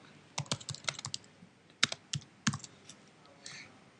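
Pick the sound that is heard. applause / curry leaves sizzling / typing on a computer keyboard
typing on a computer keyboard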